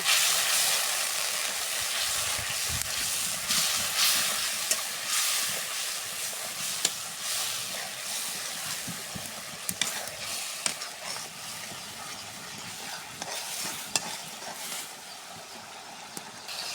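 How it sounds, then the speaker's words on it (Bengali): Spice paste fries in oil, a continuous sizzle and hiss broken by scraping stirs and occasional sharp ticks, close up and fairly loud throughout. "এখন মশলাটা আমি কষে নেব।"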